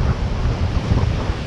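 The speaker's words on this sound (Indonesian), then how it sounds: "cuaca kondisi di sini angin yang sangat kencang guys" Strong wind blowing across the shore during fishing roars steadily and loudly into the microphone, a dense rushing buffeting with no pauses.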